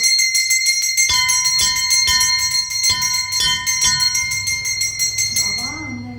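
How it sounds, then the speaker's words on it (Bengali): A puja bell rung at a Manasa worship at a village home in Bengal, struck about once a second with a bright, sustained metallic ring that overlaps between strikes, loud and close, with voices murmuring in the background. "ও ঘন্টাটা কি সুন্দর দেখ ঘন্টাটা দেখ কি সুন্দর"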